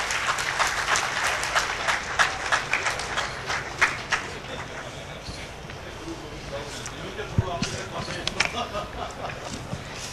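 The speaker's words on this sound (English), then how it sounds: "Please give them a big round of applause." An audience at a college technical event inauguration applauds speakers with scattered, fairly quiet clapping that thins out and picks up again, with talk in the room underneath.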